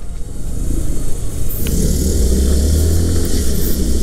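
A Yamaha Fazzio scooter pulls away from a parking area at a test ride event in Bogor, its engine rumbling steadily and rising as it rides off, close and loud throughout, with no talking.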